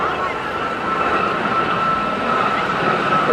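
Gazelle helicopter flying over an airshow, a steady loud engine and rotor roar holding throughout with a constant whine, crowd or wind noise blended in.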